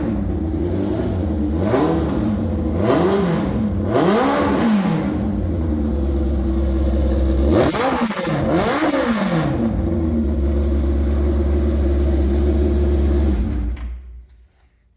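A warmed-up 1997 Suzuki GSX-R 1100 motorcycle engine idles loudly and is revved several times, each blip rising and falling, with a bigger rev near the middle before the sound cuts off.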